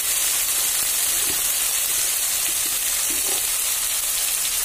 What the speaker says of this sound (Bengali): এবার ভালো করে মশলাটা কষাবো যতক্ষণ না তেলটা ছেড়ে দেয়।